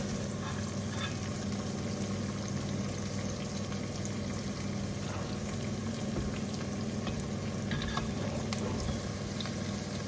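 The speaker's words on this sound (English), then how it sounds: "So the chili and the onion is added to the oil in which we pop the mustard seeds." Chili and onion sautéing in hot oil with popped mustard seeds, a steady, dense sizzle and frying hiss that runs unbroken throughout, close and fairly loud, with faint stirring noises and no voices.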